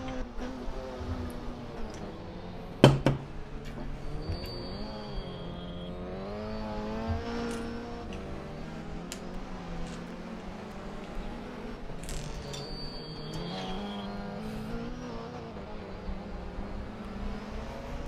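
Touring race cars in a sim racing game battling to overtake an Alfa Romeo, engines droning and rising and falling in pitch with gear changes, one sharp click early on, steady and prominent throughout.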